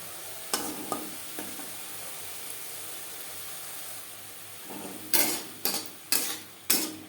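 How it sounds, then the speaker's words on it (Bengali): Steady sizzling of shrimp frying in hot oil, with a few sharp spatula scrapes and knocks against the pan toward the end. "মাছ হালকা করে ভেজে নেব"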